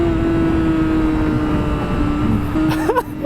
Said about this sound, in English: You get this bike revved up and you find all of the engine braking.